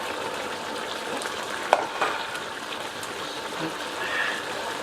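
Beef vindaloo sizzles and bubbles in a pot while being stirred, a continuous close frying hiss with a sharp clack of the spoon against the pot and a few softer knocks.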